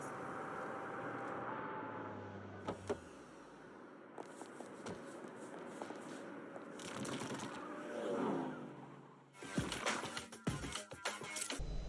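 Car in the video game Saints Row being taken and driven off, with engine hum, door and key-like clatter, revving swells and sharp impact bursts near the end, mixed with game ambience.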